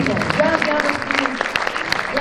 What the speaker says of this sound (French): Edouard de Messine, on peut l'applaudir.